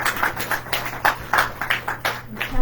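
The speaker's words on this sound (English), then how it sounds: "give him a round of applause" A small church congregation at a Sunday morning service claps for a couple of seconds. The claps are close and uneven, a sparse round of hand claps rather than a big roar.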